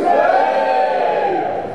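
A comedy club audience cheers and whoops for a few seconds, a dense sustained roar of voices that slowly tapers off.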